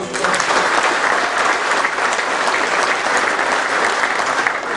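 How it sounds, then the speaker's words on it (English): Sustained applause from a crowd at a formal Marine Corps dinner, steady and dense clapping filling the room for several seconds at a strong, even level. "Round of applause, please."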